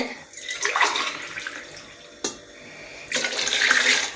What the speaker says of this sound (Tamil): ஒரு அரை கிளாஸுக்கு தக்கன தண்ணி ஊற்றிக்கிறேன்